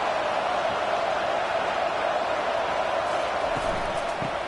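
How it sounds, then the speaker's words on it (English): A steady, dense roar from a stadium crowd in a college football video game against Tennessee. It fills the whole clip at an even level and holds a constant wash with no distinct peaks. "Listen to the crowd energy here in the early going."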